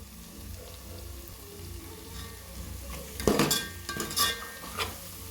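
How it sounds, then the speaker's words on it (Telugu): Biryani masala of garam masala, turmeric and biryani spice is stirred in a pan, a faint low sizzle building to several sharp scraping clinks of a spoon against the pan near the end, close and without talk. "బాగా కలపాలి"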